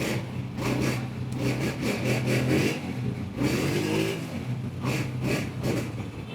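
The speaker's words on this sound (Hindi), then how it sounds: "मुर्तज़ा की बाइक्स के इंजन बोलते नहीं, धाड़ते हैं।" A motorcycle engine revs repeatedly in short bursts, rising and falling, close and fairly loud, with no one speaking.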